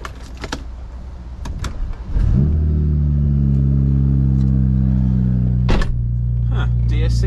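A BMW E92 335i with the N54 engine cranks and fires up after a couple of seconds of clicks and rustling, then settles into a loud, steady idle; a brief knock sounds partway through.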